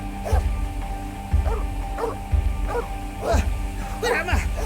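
A dog barks and whimpers in a few short bursts against a low rumbling background of carriage or engine noise, staged as part of a radio drama set in the Scottish countryside.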